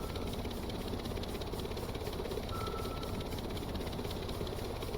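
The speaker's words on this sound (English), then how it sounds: "We've got engine noise to the south." Steady submarine engine drone picked up on sonar in the Stormworks game, a continuous low rumbling hum with a faint thin tone midway, no talk.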